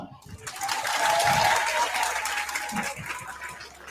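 A crowd at a political rally applauds, a broad wash of clapping that swells quickly and then tapers off, with a voice speaking over and around it.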